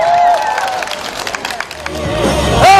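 A crowd claps and cheers loudly as a dance team is welcomed onto a stage, with applause and shouts building toward the end.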